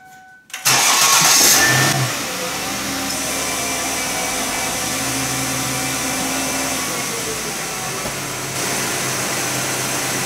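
A Lincoln LS car engine cranks, catches with a loud surge and then settles into a steady idle. The hum holds close and even for the rest of the clip.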